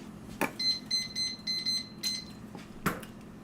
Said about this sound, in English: Hear any beeping of timers?